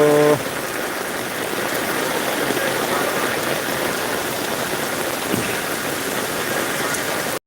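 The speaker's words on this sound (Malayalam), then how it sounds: "മലവെള്ളം കുത്തി ഒലിച്ചു വരുന്നത് പോലത്തെ മഴയും കുത്തി ഒലിച്ചു വരുന്ന വെള്ളവും" Heavy monsoon-style rain pours down steadily with water rushing and streaming nearby, a dense unbroken roar that holds at constant loudness throughout, with a brief tonal sound at the very start.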